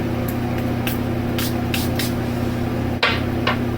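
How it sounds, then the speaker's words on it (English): A small sample bottle of Chiseled Face Trade Winds aftershave gives several short, airy squirts in irregular succession, close and crisp over a steady low hum. "Get 3 squirts in the hand."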